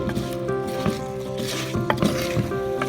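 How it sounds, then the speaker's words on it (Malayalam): Mutton coated in masala roasts in a pan on the stove, giving a steady close sizzle broken by the scrape and clatter of stirring. "അടുപ്പിൽ വെച്ച് ഇതൊന്ന് റോസ്റ്റ് ചെയ്ത് എടുത്തുകൊണ്ടിരിക്കുകയാണേ"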